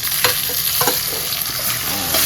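Tomatoes go into a spice paste frying in a pan for a Bengali tilapia fish curry, giving a steady hot sizzle broken by a few scraping stirs of a spoon against the pan.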